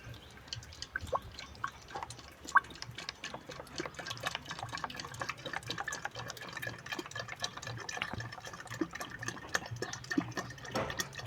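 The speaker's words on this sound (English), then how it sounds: "So we are now pouring it in the calabash." Sour milk pours into a calabash, a soft, steady liquid trickle broken by scattered drips and small splashes that stay fairly quiet and close, with no voices.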